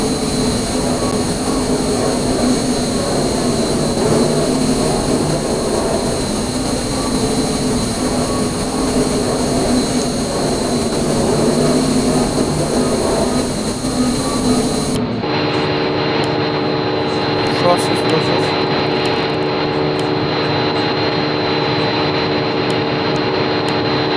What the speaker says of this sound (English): So basically, thrust reversers are on the engine.